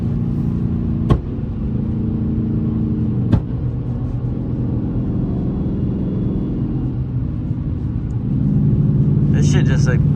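A loud flame-tuned Dodge Charger R/T cruising on a highway makes a constant low droning rumble heard from inside the car, with a couple of sharp clicks and a swell near the end.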